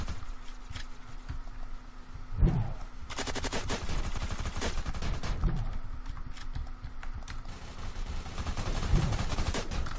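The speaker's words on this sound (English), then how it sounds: "Haha, got you fucking Matter-X with my pistol." Rapid pistol gunfire in the online shooter video game HEX: bursts of quick sharp shots mixed with clattering game effects, fairly loud throughout, no speech.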